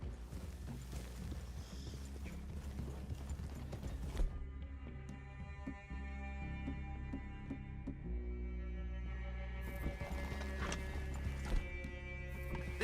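Steady clip-clop of horse hooves walking at an even pace in Red Dead Redemption 2, close by, with faint background ambience and occasional louder steps.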